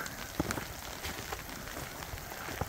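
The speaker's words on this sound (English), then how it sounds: "It's raining." Rain mixed with light sleet falls outside a hot tent at Misery Bay on Lake Superior, a soft, steady patter with scattered sharper ticks of drops striking close surfaces.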